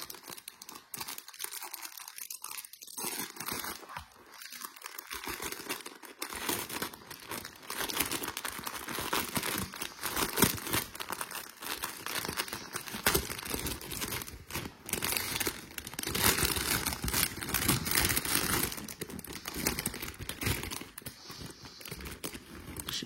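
Crinkly plastic packaging of silk cross-stitch embroidery threads being opened, a close, continuous crackle and rustle with small tearing bursts that runs through the whole stretch.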